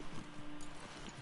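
Horse hooves clip-clopping in the video game The Last of Us Part 2, a quiet, fairly faint rhythmic clatter of several steps against a low background rumble.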